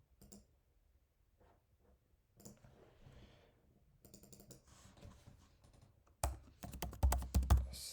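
Typing on a computer keyboard: sparse, faint key taps at first, then a louder, denser burst of quick clicks at the end.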